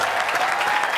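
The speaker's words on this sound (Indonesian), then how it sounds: "Tepuk tangan, Mbak Teja." An audience applauds Mbak Teja, a dense continuous clapping that stays close and fairly loud, with no talking over it.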